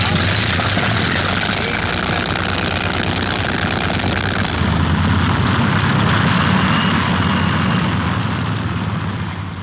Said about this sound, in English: the KG-100 Pathfinder crews climbed aboard their aircraft